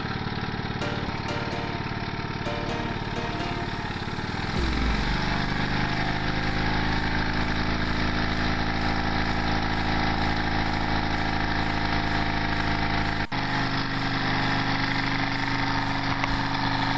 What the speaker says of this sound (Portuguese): Sendo a rotação do motor 1100 RPM.